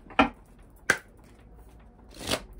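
Good Karma oracle cards being handled in a quiet room, with two sharp, brief card snaps followed by a softer, longer riffling swish.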